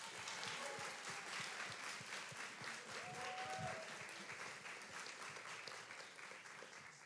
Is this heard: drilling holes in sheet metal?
no